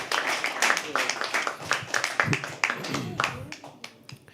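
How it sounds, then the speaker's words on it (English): Small audience at a live poetry open mic at The Habitat claps for a performer, a scattered, moderately close patter of hands with voices mixed in, tapering off toward the end. "can we please have a round of applause?"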